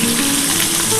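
Pomfret fish frying in hot oil in a pan for a restaurant-style pomfret curry, giving a steady, loud, continuous sizzle through the whole short stretch with no voices.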